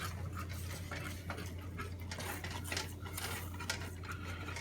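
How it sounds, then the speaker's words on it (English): Spoon stirring a gummy bear syrup mixture in a pot on the stove, faint soft scraping and light clinks in an irregular rhythm over a steady low hum. "Stir the rest of this in."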